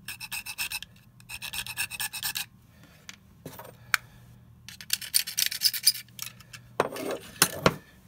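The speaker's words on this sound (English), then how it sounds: "Peel off the remaining adhesive from the shelf and from your bayonet." Leftover adhesive is peeled and scraped off a small shelf and bayonet adapter, making close, dry rubbing and rasping strokes in several bursts, with sharp little clicks and ticks between them.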